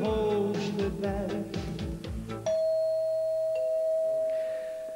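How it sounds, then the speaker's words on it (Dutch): A little bell rings on a Belgian television show, giving one clear, sustained chime that rings out and fades slowly after a stretch of sung, accompanied music, with no talk over it. "Het belletje was weer verrukkelijk mooi"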